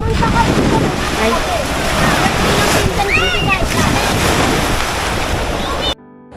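Sea waves wash against the shore at a free public beach in Amaya, Tanza, Cavite, under constant loud wind buffeting the microphone. The surf roar stays steady until it cuts off abruptly near the end.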